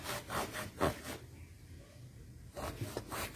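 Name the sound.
rubbing a sewing machine part with cloth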